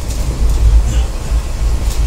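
Koyna Express passenger train in motion, heard from inside the coach as a steady loud low rumble with faint rattles over about two seconds, no talking.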